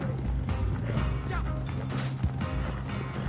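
Horse hooves clip-clopping in Red Dead Redemption 2, with a horse whinnying, as several riders set off together amid game music and rumble while a player talks over the galloping.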